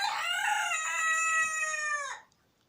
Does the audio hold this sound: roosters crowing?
yes